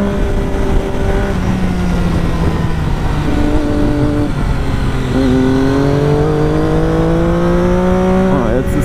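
A Triumph Daytona motorcycle in second gear at about 4000 rpm accelerates on the Hahntennjoch mountain pass, its close, loud engine drone climbing steadily in pitch over several seconds amid constant wind rush.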